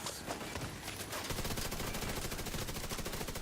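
Dense, continuous automatic gunfire from The Division 2 rattles loudly and steadily for several seconds without a break, as one rapid burst of rounds.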